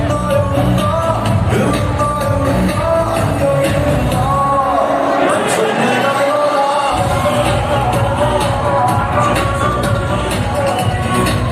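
Dense, loud crowd of fans packed together at the Vikrant Rona pre-release film event, a continuous roar of cheering, shouting and whooping that fills the whole stretch without a break.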